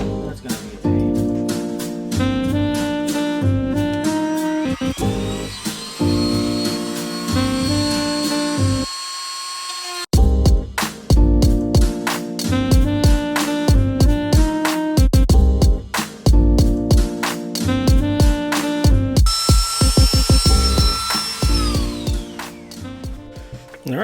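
A Dremel rotary tool cuts a carbon fiber engine bay panel on a 2020-up Toyota Supra MK5. It gives a loud, pitched buzzing that rises and falls in repeated bursts with a short pause midway.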